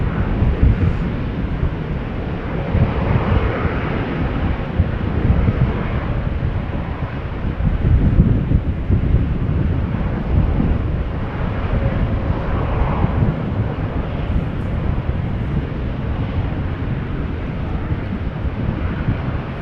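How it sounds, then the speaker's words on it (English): A twelve-year-old KLM Boeing 777-300 on flight 565 to Nairobi rumbles at Amsterdam Schiphol, a dense, continuous engine roar with wind buffeting the microphone and gentle surges in loudness, no talking over it. "KLM flight 565 to Nairobi. 777-300."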